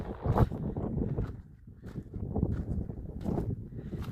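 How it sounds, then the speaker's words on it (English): Gusty wind buffets the microphone high on a mountain in Iztaccihuatl-Popocatepetl National Park, rumbling in uneven surges and dips with no voices. "Now the wind is kicking up again."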